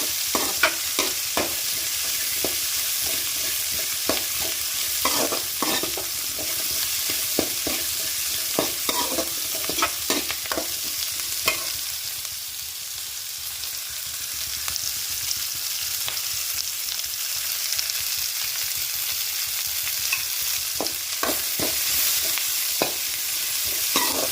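Cardamom pods and whole spices fry in hot oil for a mutton curry, a steady close sizzle with frequent scraping stirs and light clicks of a spoon against the pan throughout.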